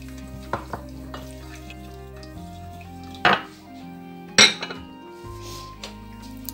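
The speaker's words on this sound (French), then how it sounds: "Je vais bien mélanger." A veal tajine with caramelized prunes is stirred in a pot after a little water is added. Two sharp spoon clinks against the pot stand out among softer scrapes, all over steady background music.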